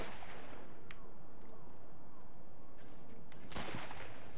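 Gunfire in Saints Row 4: sparse, sharp gunshots crack over a low background rumble, ending in a louder burst near the end.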